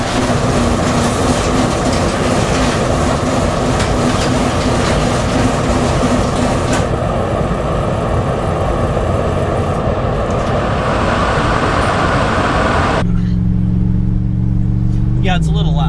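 A Ford SVT truck's engine running loud, a steady heavy rumble throughout that shifts in tone partway through, with a voice talking over it.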